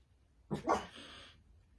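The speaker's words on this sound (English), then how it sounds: "my dogs like to bark at everything outside." Pet dogs indoors bark at something outside: a quick pair of sharp barks, slightly distant and moderately loud, trailing into a brief whine before quiet returns.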